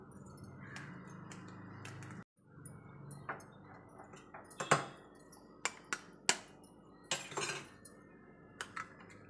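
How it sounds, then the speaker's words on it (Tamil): Two eggs cracked and poured into a bowl for a tea-shop style bread omelette, sharp clicks and taps of shell against the rim followed by soft pours and light clinks of utensils, close and alone. "நம்ம இப்போ பிரெட் ஆம்லெட் போடுறதுக்கு 2 முட்டை வந்து உடச்சி ஊற்றிக்கலாம்."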